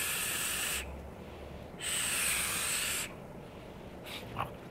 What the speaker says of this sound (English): Let me show you some of the vape production.